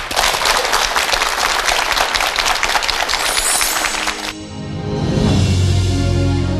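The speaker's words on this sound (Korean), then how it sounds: "이정원 교수님의 특강 힘찬 박수로 청해 듣겠습니다." An audience claps vigorously to welcome a lecturer at a televised lecture, dense loud applause for about four seconds before it cuts abruptly into quieter program sound.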